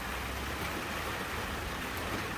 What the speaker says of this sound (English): If you can't hear that noise, that's the rain on the roof